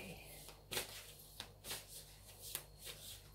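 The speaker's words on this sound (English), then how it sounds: "As I'm shuffling" Tarot cards are shuffled in quick, soft riffling bursts, several short papery flutters spaced across a few seconds, close and fairly quiet.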